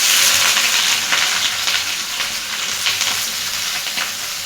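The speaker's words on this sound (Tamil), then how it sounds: "தேவையான அளவு எண்ணெய் ஊற்றிட்டு அப்புறம் ஒவ்வொன்றா போட்டு வறுத்துடலாம்" Pirandai (adamant creeper) fries in hot oil, making a loud, continuous hiss with faint crackles and stirring, close by and with no talk.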